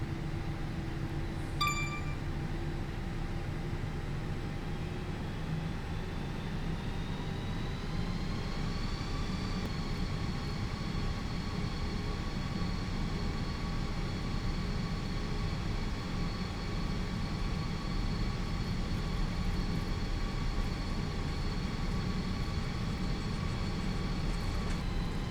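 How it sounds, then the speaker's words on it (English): Airplane takeoff roll heard from inside the cabin, a steady loud engine roar with a whine that rises in pitch over the first ten seconds and then holds level, continuous to the end with no talk. "Alright, here we go, takeoff."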